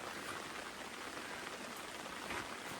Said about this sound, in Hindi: तो बाहर मस्त बारिश हो रही है